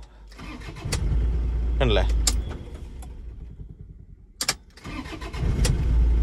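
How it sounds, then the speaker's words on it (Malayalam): A Toyota Innova engine with a worn engine bed starts and shakes hard in gear, producing a steady, close, loud low rumble with a few sharp clicks and rattles, while someone briefly speaks over it. "എഞ്ചിൻ സ്റ്റാർട്ട് ചെയ്യുമ്പോൾ കണ്ടോ ഒരു ഇടുപ്പ് കടപുടാന്ന് പറഞ്ഞിട്ട് ഗിയറിൽ ഒരു നല്ല ഷേക്കാണ്"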